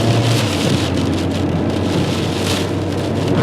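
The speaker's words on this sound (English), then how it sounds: "It's just like a rather unpleasant rainstorm" Heavy rain from a March nor'easter pours down in a dense, steady roar heard from inside a car on a drive, loud and unbroken with no voices.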